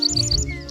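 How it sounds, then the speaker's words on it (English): A small bird sings a quick, bright series of high chirps and whistled notes, close and clear, lasting well under a second. "That's a bird singing."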